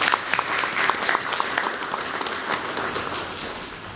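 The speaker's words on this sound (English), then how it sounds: "If we can just clap for him." Audience clapping at a business networking club breakfast event, a few seconds of dense, fairly loud applause from a roomful of people, steady then tapering slightly toward the end.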